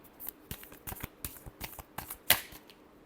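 Tarot cards are shuffled close up, with quick papery riffles and taps in uneven bursts and one louder snap near the end, without talk.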